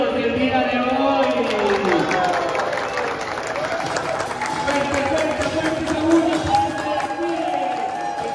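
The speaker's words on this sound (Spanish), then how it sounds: "vamos a recibir con un fuerte aplauso a nuestros modelos del día de hoy" An audience at a fashion show welcomes the models with steady clapping and some cheers, continuing for several seconds while an announcer talks over it.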